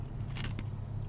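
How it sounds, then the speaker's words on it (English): Ice cubes being crunched between the teeth produce a couple of quick, crackly bites at close range. They are fairly faint over a steady low background hum. "crunching on this ice is"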